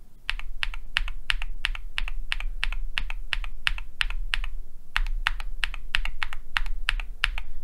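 Rapid keystrokes on a mechanical keyboard fitted with lubed and filmed Gateron Baby Raccoon long pole switches, sounding as a close, even stream of crisp clacks with brief pauses and no talking.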